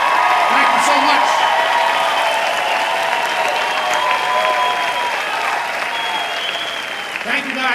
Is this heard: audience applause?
yes